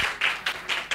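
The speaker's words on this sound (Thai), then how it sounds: "ขอเสียงปรบมือด้วยกันนะครับผม" Audience at a Thai medical English workshop breaking into applause, with bursts of clapping swelling and easing in quick waves, fairly loud and close, with no talking over it.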